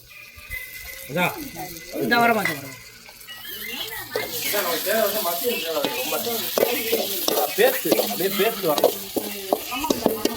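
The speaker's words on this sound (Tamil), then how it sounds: "இது வெங்காயம் வந்து இன்னும் ஃப்ரை ஆகணும்" Onions sizzle and frying in a pan during home cooking, with steady crackling and scraping stirs throughout while several voices talk over the cooking sounds.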